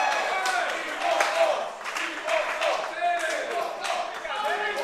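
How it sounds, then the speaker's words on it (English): Wrestling crowd in Great Yarmouth cheering and clapping at a live championship show, a steady dense roar of claps and shouts with rising swells, a commentator talking over it. "This great Yarmouth crowd want more"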